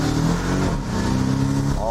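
A new Porsche Boxster's engine and exhaust in Sport Plus mode, a loud steady drone close by that wavers and rises slightly near the end, with someone talking over it.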